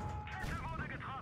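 A tank cannon fires in a tank video game: a sharp boom with a ringing, rumbling tail, heard close and loud over game background noise.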